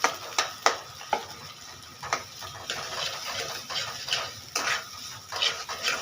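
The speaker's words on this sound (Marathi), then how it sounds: "तर इथे हा कांदा फ्राय होतोय" Chopped onion frying in oil in a kadhai for a prawn curry, a steady soft sizzle with scattered clinks and taps of a spatula stirring against the pan.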